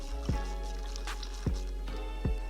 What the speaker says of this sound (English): you rinse them, swish them out a little bit in the water